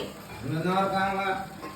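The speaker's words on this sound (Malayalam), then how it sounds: "ഇനി ഒന്ന് കടുക് വറുത്തിടണം." Mustard seeds frying in a hot kadai, with stirring and pan scraping and a steady sizzle that swells through the middle, then eases. A voice is faintly audible in the background.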